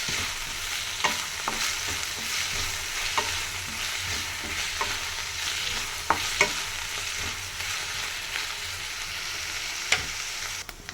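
Ingredients for nalleru chutney frying in a pan, a continuous hiss of sizzling oil under repeated clinks and scrapes of a spoon stirring, fairly close and even throughout.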